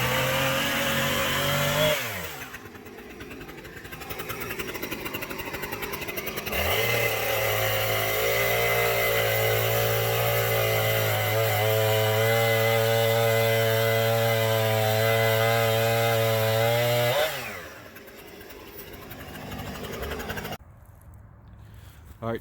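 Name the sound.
Husqvarna 455 Rancher chainsaw cutting lumber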